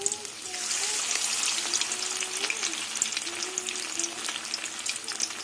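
Small kachki fish pakoras sizzle steadily in hot oil, a continuous bright crackle with soft stirring, while a voice talks quietly over the frying.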